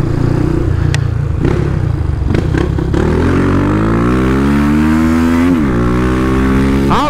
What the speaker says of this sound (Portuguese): essa moto tem 1000 giros a mais